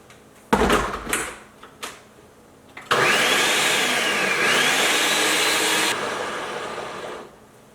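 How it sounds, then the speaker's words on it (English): Food processor pulsing a vegan sushi rice mixture: a few short clunks and bursts, then a steady loud whirring run of about three seconds that tails off, close with no talking. "add all that to your food processor, and then you're going to pulse it for about 30 to 45 seconds"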